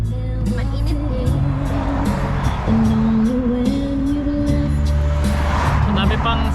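Cars on a busy road pass close by with loud, shifting engine tones and tyre noise, and people talk over the traffic.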